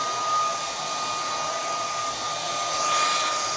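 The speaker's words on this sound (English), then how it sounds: "Just get the blow dryer and put it through" A handheld blow dryer runs continuously on freshly rinsed hair, giving a loud, close, steady whooshing roar with a thin constant whine and no talk.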